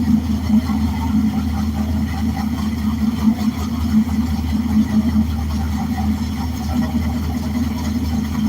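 A 514-horsepower, 400-cubic-inch blueprint car engine with upgraded heads and cam runs on a wheel dyno, a steady loud idle-like rumble throbbing continuously throughout.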